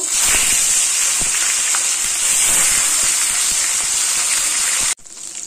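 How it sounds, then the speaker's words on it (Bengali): Fish frying in hot mustard oil in a wok, a loud continuous bright sizzle and hiss with small pops throughout, cutting off abruptly near the end to a quieter sizzle. "মাছগুলো ভেজে নেব।"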